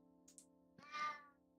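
A single soft meow from a pet cat rises briefly over a low steady indoor hum, close by and with no talking.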